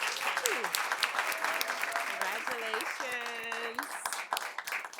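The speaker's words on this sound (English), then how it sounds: "Let's give these students a round of applause." Sustained applause from an audience at a school board meeting honoring students, steady dense clapping for about five seconds with cheering voices and whoops rising over it.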